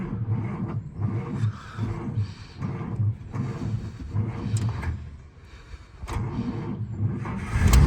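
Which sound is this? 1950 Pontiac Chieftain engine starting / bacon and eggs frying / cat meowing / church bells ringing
1950 Pontiac Chieftain engine starting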